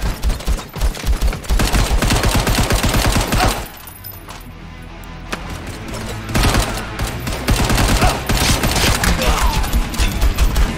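Dense rapid gunfire from the VR shooter game Hard Bullet, loud automatic bursts with a brief lull in the middle before the shooting resumes heavily.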